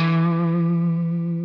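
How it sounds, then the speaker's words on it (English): A single sustained electric guitar chord run through effects with distortion and chorus, ringing loud and close and slowly fading, with no voices over it. "Bridget rocks the electric guitar"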